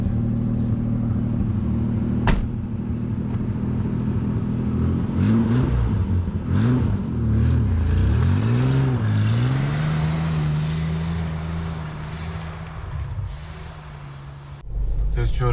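A cold Mitsubishi Pajero with a 3.0 V6 pulls away, its low engine drone rising and falling through gear changes, loud and close throughout, with a brief sharp knock early on and a clunk near the end.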